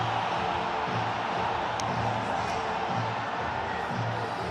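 Stadium crowd in Pakistan celebrating a cricket series win, a steady broad roar of cheering that fills the whole stretch without breaks, no clear voices standing out.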